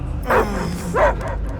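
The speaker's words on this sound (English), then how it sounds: "I hear only barking" A dog barks in the video game Marvel's Guardians of the Galaxy, two close, distinct yelping barks separated by a short pause over a low game-ambience rumble.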